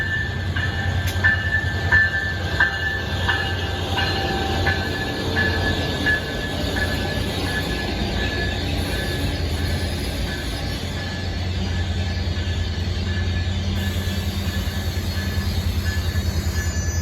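An NJ Transit train hauled by ALP-45DP dual-mode locomotives rolls past at close range, a continuous loud rumble of wheels on rail with rhythmic clacks and a high, steady squeal running throughout.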